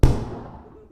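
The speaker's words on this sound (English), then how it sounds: "What a gunshot." A single sharp gunshot cracks out loud and close at the start, its boom decaying into a fading rumble over less than a second.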